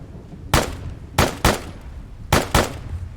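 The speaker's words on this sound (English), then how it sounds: "I'll keep shooting until they come to me" Gunfire in the Arma military shooter: five sharp, loud shots fired singly and in close pairs with short gaps between them, over a steady low background rumble and no talk.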